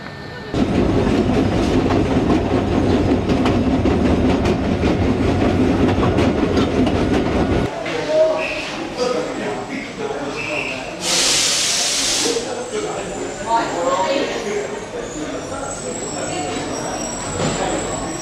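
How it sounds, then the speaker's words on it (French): A train at Ollantaytambo station in Peru rumbles steadily with a broad hissing roar and rolling clatter, loud and close, as voices murmur around it on the platform. "on a pris le train, là il va à Ollantaytambo"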